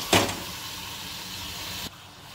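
Marinated chicken is dropped into masala in hot oil, giving a sharp burst of sizzling followed by a steady close hiss that cuts off abruptly after about two seconds.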